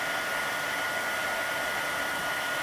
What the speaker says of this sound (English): So you don't want to waggle the heat gun around too much, otherwise it takes ages